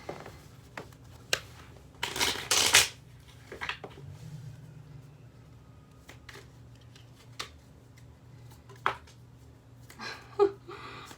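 Tarot card deck being shuffled by hand, with scattered soft riffles and taps and one louder burst of shuffling near the start, then sparse card handling.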